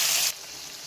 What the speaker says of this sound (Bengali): চিংড়ি ভাজা ভাজা হয়ে এসছে